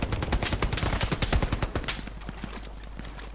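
Rapid bursts of gunfire in the video game Hell Let Loose crackle continuously, dense and loud, thinning slightly toward the end over a low rumble.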